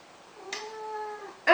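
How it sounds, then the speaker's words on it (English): A pet cat named Spooky gives one drawn-out meow, close by and moderately loud, ending with a brief louder rustle or bump. "This is my cat."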